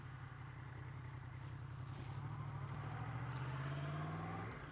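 Yamaha FZ-10/MT-10 motorcycle on a road ride, a steady engine drone with a tone that climbs under acceleration, wind noise laid over it, no one speaking.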